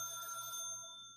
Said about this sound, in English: I have a landline that's been ringing nonstop today